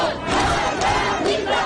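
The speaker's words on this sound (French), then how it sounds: "Dans la rue, la foule scande des slogans anti-régime ou encore « mort au dictateur »" Street crowd in Iran chanting anti-regime slogans, a dense mass of voices shouting together in loud, rhythmic surges.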